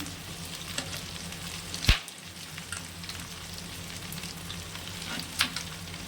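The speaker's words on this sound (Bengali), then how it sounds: "মাশরুমটা একটু হালকা করে ভাজতে হবে" Mushrooms fry lightly in a pan for chilli mushroom, producing a constant near sizzle with a few louder spatters and clinks standing out from the steady crackle.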